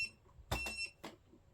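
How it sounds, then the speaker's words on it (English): A Kogan UltraClean G20 robot vacuum gives a few short electronic beeps, three clear chirps in quick succession, close and alone in a quiet room. "okay, it's beeping"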